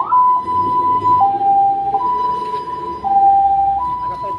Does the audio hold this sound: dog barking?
no